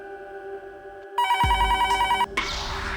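A telephone rings in a Hindi TV drama scene, a loud warbling electronic ring lasting about a second over a quiet background tone, followed by a thud and noise.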